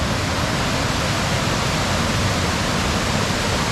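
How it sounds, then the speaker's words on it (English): Potato River Falls roars as a steady, dense wash of falling water, close and loud, with no voices or other sounds breaking the continuous rush. "To the top of Potato River Falls."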